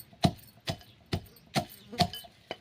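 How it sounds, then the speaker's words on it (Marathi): Peanuts pounded coarsely in a mortar and pestle, heard as six sharp, evenly spaced thuds about half a second apart, close and fairly loud with quiet between strikes. "खलबत्यात कुटूया बघा आणि कुटायचं पण एकदम बारीक नाही कुटायचं थोडं मीडियम कुट ठेवायचं"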